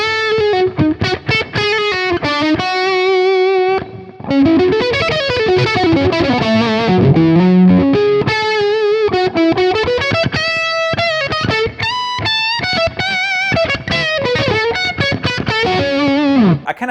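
A Gibson 1959 Les Paul Standard Reissue electric guitar plays distorted, warm-toned riffs and lead lines with bends and slides, loud and continuous for the whole stretch with no talking.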